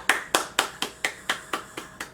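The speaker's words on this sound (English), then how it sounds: "let's just have a round of applause" A single person claps their hands about nine times in an even, steady rhythm. The claps are sharp, close and separate, with no crowd.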